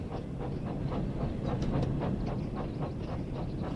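Mixed freight and passenger train on the West Somerset Railway in Train Sim World 5, a steady rumble with rhythmic clickety-clack of wheels over rail joints, close and continuous.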